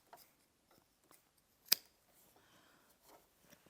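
Scissors snipping excess fabric off a Christmas stocking cuff, faint soft rustles and one sharp close cutting click in near quiet.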